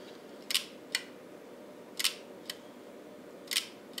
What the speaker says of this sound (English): The shutter,